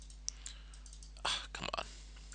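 A computer mouse clicks OK in a virtual machine dialog, heard as a few sharp, close clicks in quick succession over a faint electrical hum.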